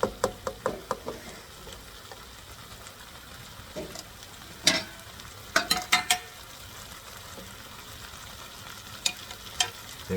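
Chicken stew with tomato and baby bok choy is stirred in a sizzling pan, with the spoon scraping and knocking in irregular clusters over a steady low frying hiss.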